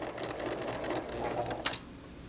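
A sewing machine runs steadily at close range, stitching in the ditch of a seam on fabric, with a brief sharper mechanical click near the end.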